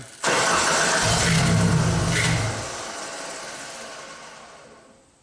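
A car engine cranks and catches after the key is turned, a loud surge that settles into a steady idle and then fades as it winds down toward the end. No one speaks.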